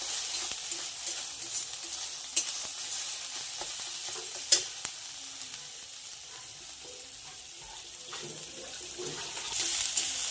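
Grated coconut frying in a pan until it turns reddish, a steady soft sizzle with scraping stir strokes and a few sharp clinks of a spoon against the pan, with a trickle of running water near the end.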